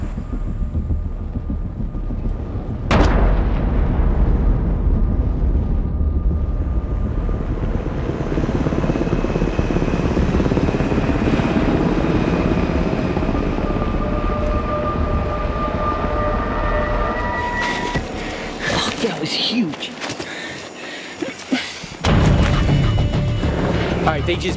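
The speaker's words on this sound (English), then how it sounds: "And now we're, choppers are coming for extraction." Helicopters arrive for an extraction over a jungle canopy forest after a drug lab explosion, with a heavy, continuous rotor roar that fills the scene, a sharp bang near the start and a few later knocks.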